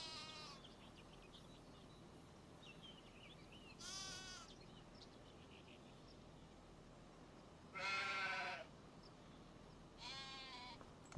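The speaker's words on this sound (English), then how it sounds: "Sheep, ladies and gentlemen." Sheep in the Farming Simulator 25 video game bleat in several separate, wavering calls, some short and one longer and louder, over a low steady farm ambience with no talking.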